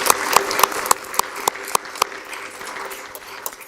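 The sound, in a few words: applause at a board meeting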